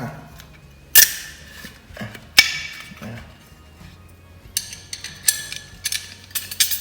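Metal nuts and bolts being tightened while assembling a BBQ and hotpot grill, giving scattered mechanical clicks and ratchet-like clatters with a few sharp louder knocks, close by, with no talking.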